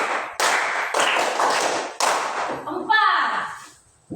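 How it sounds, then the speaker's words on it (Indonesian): Schoolchildren in a classroom clap a three-beat pattern twice in unison, a run of loud, sharp group claps with short gaps, ending as a voice briefly rises over the fading room sound. "Tepuk 3 2 kali."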